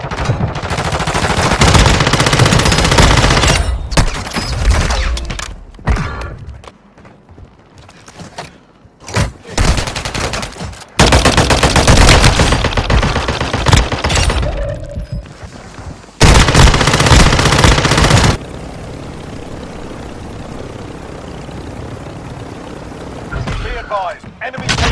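Rapid gunfire in the mobile game Warzone Mobile from a fast-firing gun using shotgun rounds, loud bursts in several separate volleys, with game voice callouts.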